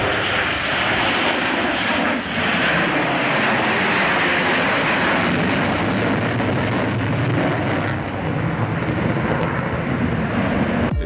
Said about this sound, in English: This Russian bomber showing off his afterburners.